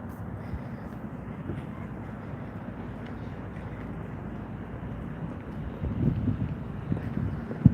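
Wind gusts outdoors in Las Vegas after a storm, a steady rushing roar buffeting the microphone, swelling slightly near the end.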